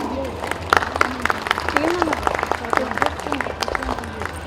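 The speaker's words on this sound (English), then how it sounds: "Give a big round of applause." Audience applause at a school Republic Day celebration, a steady patter of many hands clapping for a few seconds with crowd murmur and a voice speaking over it.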